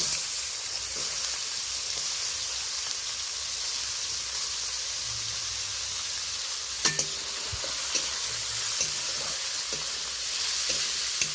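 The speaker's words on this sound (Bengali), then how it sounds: "এই পর্যায়ে কাঁচা লঙ্কা আর পেঁয়াজ দিয়ে দেব।" Green chillies and onion frying in oil tempered with whole spices, for a cauliflower and bhetki fish dish, give a steady close sizzle and hiss, with occasional clinks of a spatula stirring the pan.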